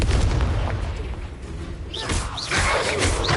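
The Confringo fire spell being cast in the Hogwarts Legacy video game, a deep booming blast with crackling rumble and bright magical whooshes over game ambience, loud and close, with no talk during it.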